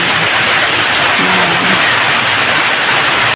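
Steady, heavy rain hissing close by without a break, a dense, even wash of sound, in Gumaca, Quezon, Philippines.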